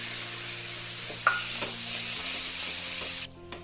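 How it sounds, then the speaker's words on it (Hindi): Tomato puree goes into a pan of frying spices for a paneer tikka masala curry, producing a continuous sizzle with a few stirring knocks before it cuts off near the end. "और अब इसमें डाल देते हैं टमाटर की प्यूरी।"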